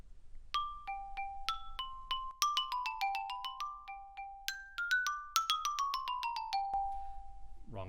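Xylophone etude in 6/8 and 2/4, bright struck bars ringing in a lively melodic line of single notes and quick runs, clear and close, played alone.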